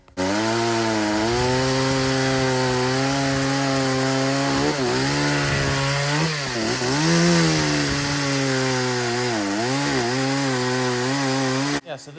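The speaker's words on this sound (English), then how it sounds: "this saw's cutting pretty good for a bone stock chainsaw" A stock chainsaw runs loud and steady for about twelve seconds, engine pitch dipping and rising as the chain bites into wood, then cuts off.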